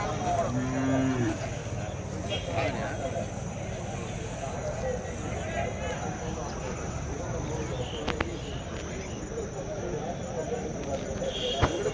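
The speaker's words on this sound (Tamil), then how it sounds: "இது நல்லா பெரிய மாடுங்க" Native cattle low at a busy outdoor cattle market in Madrapalli, with a steady crowd murmur and voices talking throughout. Hooves clop now and then in the background.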